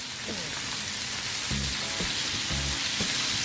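Filet mignon and asparagus sizzle steadily in a buttered pan with garlic seasoning, a dense close frying hiss throughout, while a voice talks intermittently over it.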